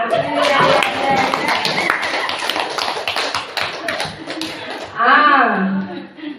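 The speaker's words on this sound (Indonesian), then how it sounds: "Mari kita tepuk tangan." A school class claps in a quick, ragged burst of hand claps for several seconds, fading as a voice resumes talking alone near the end.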